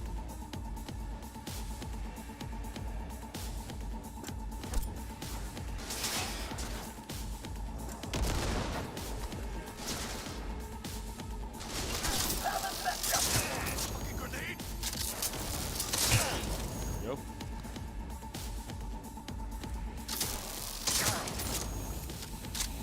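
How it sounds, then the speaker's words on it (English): Close-range shotgun blasts in Cyberpunk 2077 ring out as scattered loud bangs over a constant background of game noise, gunfire and mechanical clatter, with a person talking throughout. "Switch to the shotgun and just do this nice and close."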